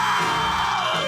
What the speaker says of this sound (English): what's all the screaming up there?